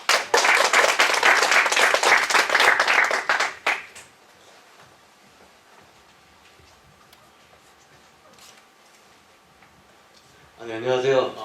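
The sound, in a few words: audience applause welcoming a speaker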